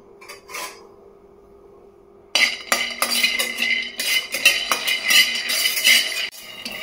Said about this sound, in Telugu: కొన్ని పల్లీలు వేసేసి ఫ్రై చేసుకోవాలి.